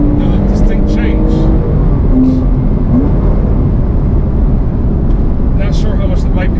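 Porsche 987 Boxster S flat-six revving past 5000 rpm with its variable valve timing, heard from inside the cabin with the top up as a loud, steady engine drone mixed with road noise; a voice talks over it.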